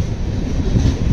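The Jaipur to Delhi double decker train runs at speed, a loud continuous rumble of wheels and carriage noise heard from inside, with no talking.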